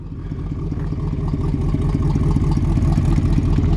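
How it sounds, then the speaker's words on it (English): A 1972 Chevrolet Suburban truck engine idles through its exhaust with a deep, steady, throbbing low rumble, close and loud, with no voices over it. "Great sounding exhaust."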